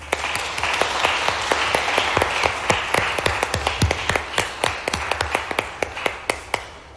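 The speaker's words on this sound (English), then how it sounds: "Let's give him a round of applause." An audience at a law school trial competition final gives a round of applause: dense clapping that thins toward the end into scattered, distinct individual claps, fairly close and alone, without talk.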